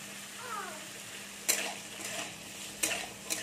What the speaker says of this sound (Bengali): একটু ভালো করে নেড়ে ভেজে নিচ্ছি